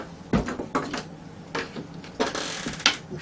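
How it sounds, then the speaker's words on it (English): A screw is driven into a wooden console panel with a series of short, grinding bursts of turning and creaking, close and moderately loud, spaced irregularly over a few seconds with no talking. "I'll put the screw in there."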